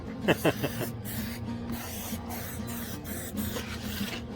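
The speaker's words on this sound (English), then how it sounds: "So I want to get the butter spray everywhere." Butter spray hisses from a can onto a whole chicken before smoking on a Pit Boss Tailgater pellet grill, in a steady continuous spray with brief gaps and a few short rattles near the start.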